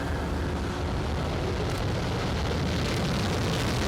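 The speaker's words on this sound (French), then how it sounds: "l'Airbus A330-300 de la compagnie Corsair qui s'apprête à atterrir sur le tarmac" Corsair Airbus A330-300 airliner on approach to land at Cotonou airport, a steady, loud broadband jet roar with deep low rumble that holds evenly throughout, no voices.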